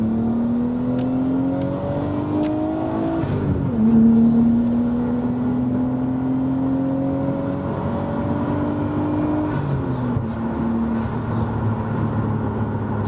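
A Nissan Skyline R33 GTS25T, 250 horsepower, accelerates hard, its engine rising in pitch through the gears with short dips at the shifts, heard from inside the car with no talk.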